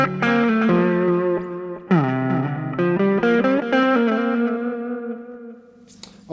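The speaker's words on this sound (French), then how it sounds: "donc là on n'entend que le deuxième délai" Electric guitar run through the second delay on an FCB1010 pedal setup: a series of slightly distorted notes and chords, each trailed by echoing repeats, played up close and clear without speech.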